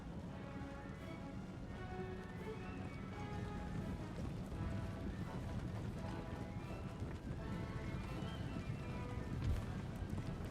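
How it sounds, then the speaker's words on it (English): Horse galloping in the strategy video game Guerilla Empire, a steady stream of rapid hoofbeats running continuously under a dense layer of game music and battle noise. "Oh, one guy got on his freaking horse."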